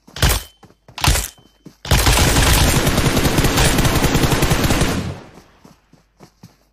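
Loud bursts of rapid automatic gunfire from the mobile battle royale game PUBG Mobile, with a few single shots before a sustained three-second volley and scattered shots trailing off after it.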